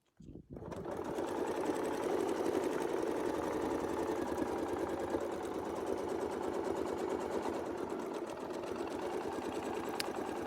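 A domestic sewing machine stitches with a Westalee Gateway quilting ruler for a flying squares quilt, a steady close motor whir and rapid needle chatter running continuously after a short start.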